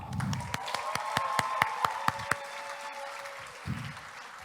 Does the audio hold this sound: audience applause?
yes